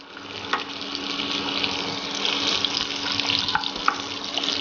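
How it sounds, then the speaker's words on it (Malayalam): Hot oil and butter sizzling in a pan on the stove while cooking prawn kabsa rice, a steady broadband crackle with scattered sharper pops, fairly close and without any talk. "ഒരു പാൻ അടുപ്പിൽ വെച്ച് ചൂടാകുമ്പോൾ അതിൽ കുറച്ച് എണ്ണ ചേർക്കുക."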